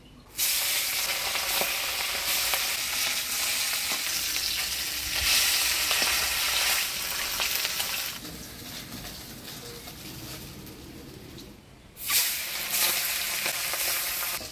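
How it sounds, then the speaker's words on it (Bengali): Small bacha fish go into hot oil and fry with a loud, continuous crackling sizzle. The sizzle eases and thins partway through, then surges back sharply near the end as the fish are turned or stirred. "তেল গরম হয়ে গেছে, এবার মাছগুলা দিয়ে দিব।"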